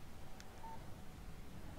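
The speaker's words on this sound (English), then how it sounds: "Text message from Barry." A short phone text-message alert chirps once in Alan Wake, a brief faint electronic tone over a steady background hum.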